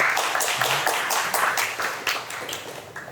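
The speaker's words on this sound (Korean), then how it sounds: "김진혁 교수님을 박수로 모시겠습니다" A book talk audience claps to welcome a theology professor onstage, a dense steady round of applause that gradually thins toward the end.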